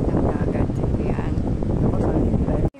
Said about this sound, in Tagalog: Nagbabadyang ulan ng malakas at napakalakas ng hangin.